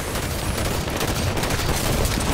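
Heavy gunfire in the shooter Halo 5 during a ranked Big Team Battle match on the Crossbow map, a dense continuous barrage of overlapping shots and impacts, loud and close, with no talk heard.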